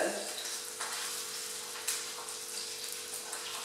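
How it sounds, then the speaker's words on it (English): Steady sizzling and crackling of sausages frying in hot fat in a pan, close and continuous, with small pops throughout. "I can hear my fat on the pan beginning to bubble, so let's add the sausages."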